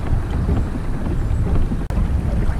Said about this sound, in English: just casually paddling